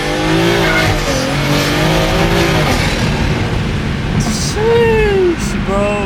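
Toyota Supra with bald, worn-out tires spinning under throttle, a loud sustained engine roar with rising harmonics and squealing tire scrub, broken by a brief sharp chirp near the end, with voices talking underneath.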